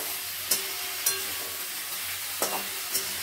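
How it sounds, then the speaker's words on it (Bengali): Vegetables for a spinach chorchori fry in a kadai with a steady close hiss, broken by four sharp spatula clinks as they are stirred. "এরপর আমি কড়াতে সমস্ত সবজিগুলো দিয়ে ভালো করে ভেজে নিচ্ছি।"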